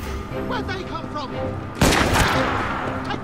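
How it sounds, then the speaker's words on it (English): A single loud gunshot goes off midway through a stretch of Assassin's Creed Syndicate gameplay, cutting sharply across game dialogue and ambience, with noisy echo trailing after the blast. "The gunshot."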